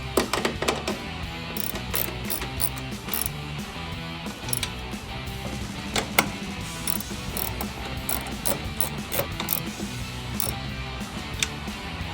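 Metal nuts being tightened by hand tool onto the coolant reservoir of a Jeep Gladiator JT, a close run of quick ratcheting clicks and small mechanical rattles continuing steadily with no talk.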